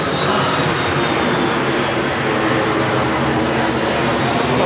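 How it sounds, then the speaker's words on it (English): Steady broadband roar of an airplane passing overhead, loud and continuous without breaks, with a faint voice beneath it. "Of course, the plane's always going overhead now too."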